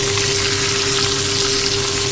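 Hilsa fish fries in a pan of oil, giving a loud, steady, close-up sizzle and crackle that holds evenly throughout without pause.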